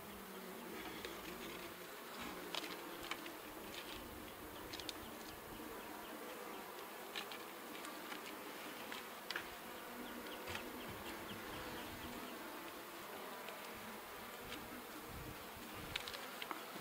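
Honey bees buzz around an open, full and well-established hive, giving a continuous close hum with individual bees droning past near the microphone.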